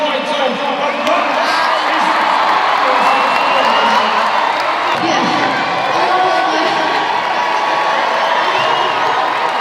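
Crowd at a strongman competition roaring and cheering steadily throughout, a dense wash of voices with shouts and whoops, with commentary running over it.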